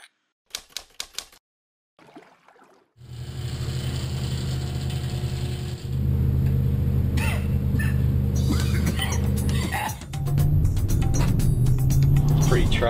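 A four-wheel drive vehicle travels a snowy road while scouting for ice near Lake Erie, giving a loud, steady low rumble with mechanical rattles and clicks, after a few sharp taps and a brief quiet start.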